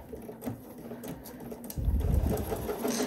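A sewing machine stitches a dress bodice, a light mechanical whir that jumps into a louder, faster run of stitching partway through.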